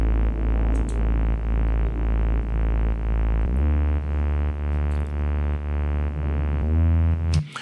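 Sustained afro house synth bass line from three layered oscillators in FL Studio, a buzzy, harmonically rich drone with steady throbbing pulses that shifts pitch partway through and glides near the end, played alone without talk.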